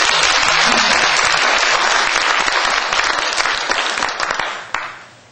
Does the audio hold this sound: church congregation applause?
yes